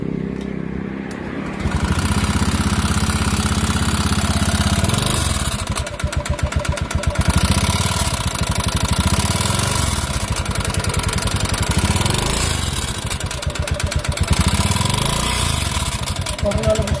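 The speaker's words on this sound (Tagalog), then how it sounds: "testingin natin mga bossing para madinig nyo rin yung tunog na itong makina na ito" A Honda Beat FI scooter engine cranks over and starts, then settles into a loud, close, steady idle with a fast uneven putter that briefly revs and dips, running alone without talk over it.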